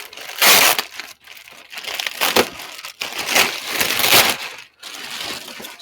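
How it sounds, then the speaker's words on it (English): Packaging around a Bambu Lab A1 3D printer is peeled and unwrapped in bursts of loud crinkling and crumpling plastic and foam, close up, with brief pauses between pulls. "You just, unwrap it. And you got layers and layers and layers of stuff here."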